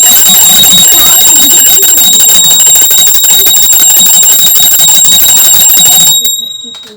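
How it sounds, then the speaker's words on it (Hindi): A loud, sustained metallic ringing of a temple bell resonates with bright overtones, then stops abruptly and leaves a quiet tail. "अच्छा, इधर भी बजानी घंटी? हम घंटी बजाना भूल गए थे।"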